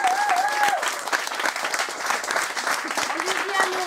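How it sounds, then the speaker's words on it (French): Applause from an audience at an evening community gathering, a steady dense patter of clapping sustained throughout with faint crowd murmur mixed in. "On a Philippe d'ailleurs qu'on peut applaudir très fort."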